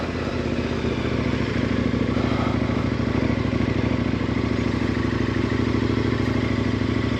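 A KTM 1090 Adventure motorcycle picks its way over rough terrain, its engine a steady close throbbing drone with rattling clatter and small throttle changes throughout.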